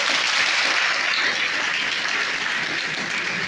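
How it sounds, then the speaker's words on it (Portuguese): Church congregation applauding together during a worship service, a dense, steady wash of many hands clapping at full strength from start to finish with no voices standing out. "Aplauda o Senhor pela vida do pastor."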